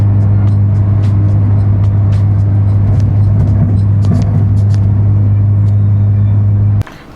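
A steady, loud Volkswagen Golf R engine drone with a strong low hum and faint sputtering clicks, losing power from bad spark plugs, running continuously before cutting off abruptly near the end.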